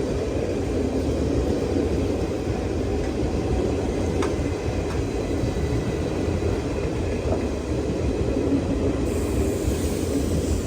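A Jan Shatabdi express train runs through a railway station, making a steady, loud rumble of wheels and carriages that holds without a break, with no voices.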